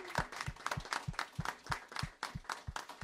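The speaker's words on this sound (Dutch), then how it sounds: "Dus een groot applaus voor Jeff." Rhythmic, evenly spaced clapping from a small group applauding Jeff, the team captain, with steady beats roughly three per second, fairly close and moderately loud.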